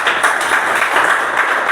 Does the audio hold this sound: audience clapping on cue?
yes